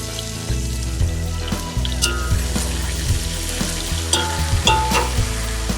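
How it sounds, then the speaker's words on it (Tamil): Sliced onions and green chillies sizzle and fry in hot oil for a chicken dum biryani, with steady loud crackling broken by repeated stirring and scraping sounds. "வெங்காயமும் பச்சை மிளகாவும் போட்டுக்கிடுங்க."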